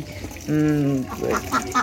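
A duck on a small farm gives one clear, nasal quack, close and fairly loud, with a few softer sounds around it.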